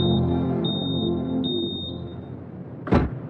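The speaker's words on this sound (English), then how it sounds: "Firevert was able to hear the sound of your smoke alarm" A smoke alarm beside a stove gives a steady, piercing high-pitched tone in repeated pulses, ringing loud over a low background hum until a sharp knock near the end.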